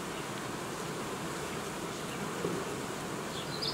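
Honeybees buzzing around improvised hive nuclei, a dense continuous drone of many insects close by, steady and even throughout with a few individual bees passing nearer toward the end.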